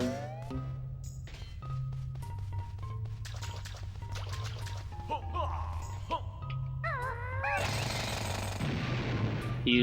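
Bill Drill move from the Banjo-Tooie video game, heard as rapid mechanical drilling and jackhammer-like bursts amid musical game sounds and sliding tones, with a player talking over parts of it.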